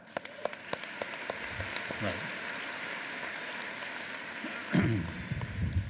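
A convocation audience breaks into applause, with scattered distinct claps building into a fuller wash of clapping, while a voice speaks briefly over it.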